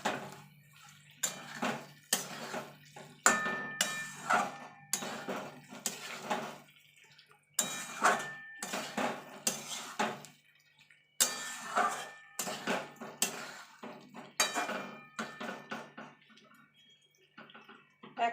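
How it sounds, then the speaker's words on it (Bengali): Fried small potatoes are stirred into spice masala in a pan for aloo dum, a string of irregular wet scraping and clattering bursts with short quiet gaps between strokes. "এবার যে আলুটা আমি ভেজে রেখেছিলাম সেটা দিয়ে দেবো দিয়ে ভালো করে মশলার সঙ্গে কষিয়ে নেবো"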